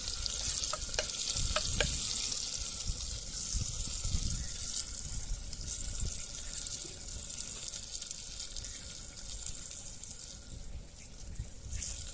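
Chicken and onions fry in oil in a clay pot over an outdoor fire, giving a steady, dense sizzle with occasional stirring scrapes throughout.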